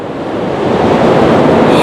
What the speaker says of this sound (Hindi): मगर ये शहर के नाले का पानी आ रहा है